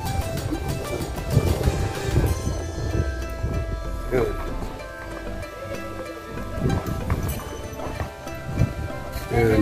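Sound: pony hooves clip-clopping at farm park

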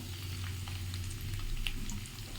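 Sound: water poured into a pan of frying hilsa fish curry

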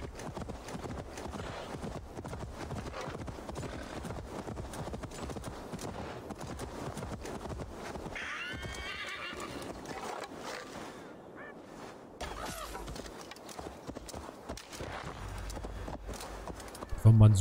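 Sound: horse galloping and neighing in Assassin's Creed Valhalla video game

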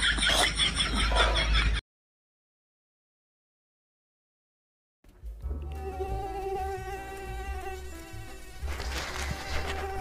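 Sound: mosquitoes buzzing

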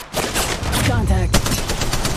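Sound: gunfire from the video game Apex Legends Mobile

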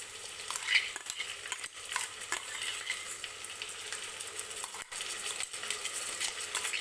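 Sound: ginger garlic paste with onion and tomato sautéing in oil in a pressure cooker

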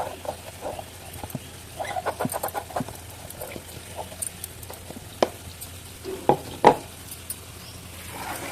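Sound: jaggery syrup cooking and being stirred in pan

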